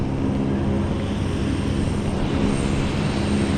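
Aircraft on an airport tarmac in Botswana just after landing, a steady loud engine roar and whine holding evenly throughout, close by, with no talk.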